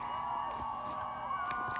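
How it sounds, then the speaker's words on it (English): A ballpark crowd cheers as a player walks up to the mound, a dense, steady roar of many voices with scattered whoops rising above it, full and continuous for a short burst. "we created the sound effect of the crowd cheering for Sizzla going up to the mound"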